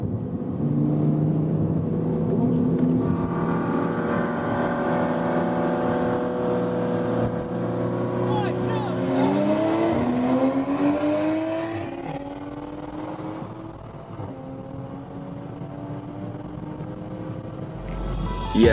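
A 2020 Toyota Supra with pure turbos pulls hard in a drag race. The loud engine note climbs steadily, shifts at about the midpoint and climbs again, with no voices over it.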